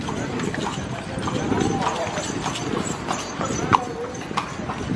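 Horse-drawn carriage hooves clopping along a car-free island road on Gili Trawangan, a steady busy rhythm under continuous street noise and nearby talking.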